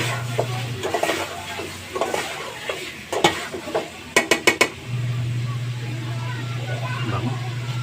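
Chicken tinola soup stirred in a pot, with scattered scraping and clinking of a utensil against the pot and a steady low hum partway through, including a brief run of sharp clacks near the middle.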